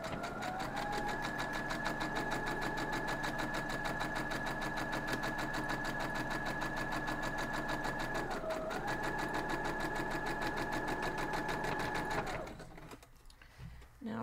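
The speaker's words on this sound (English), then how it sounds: "I'm just going to sew right down through it" A sewing machine stitches a quilt block seam straight through, a steady close whirring hum with even rhythm that runs for about twelve seconds before stopping abruptly near the end.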